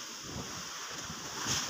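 Strong typhoon wind sweeping through mangroves near a coastal house, a steady rushing roar buffeting the microphone, loud and continuous over the brief moment, with no talk.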